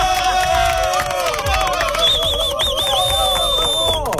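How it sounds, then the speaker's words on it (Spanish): A radio host plays a canned applause and cheering effect on air, a dense crowd roar with whistling tones running steadily for the whole stretch at high level. "¿Qué les parecen mis aplausos, eh?"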